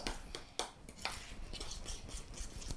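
Homemade peppermint toothpaste mixture is stirred in a container, quiet scraping and clinking of a utensil in short repeated strokes, close and soft, with no talking.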